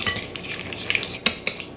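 Cookie dough ingredients for gluten-free snickerdoodles are stirred in a bowl, giving soft scraping swirls punctuated by several sharp utensil clinks against the bowl, close and quiet.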